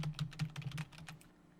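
Keys clatter on a computer keyboard in a quick, close burst of typing that tapers off after about a second. No voices are heard.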